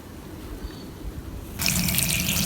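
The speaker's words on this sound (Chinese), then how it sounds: "我们首先把根上的泥土把它清洗掉" Running tap water rinsing soil off the roots of freshly dug wild greens, a soft trickle that swells suddenly into a louder, steady hiss of water in a sink, with no talk.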